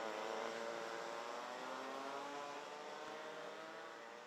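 A racing kart in a mini-class heat at Genk accelerates on a wet circuit, its engine a steady droning buzz with rising harmonics, fairly distant and fading slightly toward the end.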